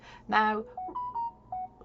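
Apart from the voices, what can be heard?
mobile phone sound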